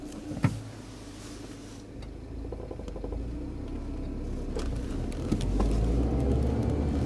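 A manual-transmission car starts back up after stalling and pulls away, an engine hum rising gradually from a low idle into a louder, steadier drone heard from inside the cabin.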